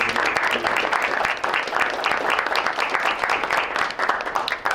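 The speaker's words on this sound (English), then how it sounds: "a big round of applause" A crowd at a school board meeting applauds, dense clapping sustained throughout at an even, lively level.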